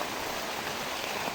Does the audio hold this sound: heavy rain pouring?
yes